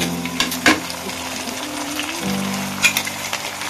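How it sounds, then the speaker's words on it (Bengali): Capsicum and onion frying in a pan, a moderate sizzle with a few clinks and scrapes of a utensil and a low hum underneath, close by, no one speaking. "আমি ক্যাপসিকামটা দিয়ে এবার ওটা ফ্রাই করে দিলাম"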